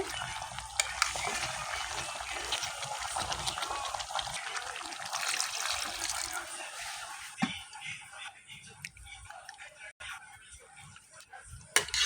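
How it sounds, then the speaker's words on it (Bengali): Water being poured into a pot of village-style broiler chicken and potato curry, a steady rushing, gurgling flow over the frying that eases off partway, with a few clinks near the end. "কষানো হয়ে গেছে এখন আমি জল দিয়ে দিতেছি এগুলোর মধ্যে"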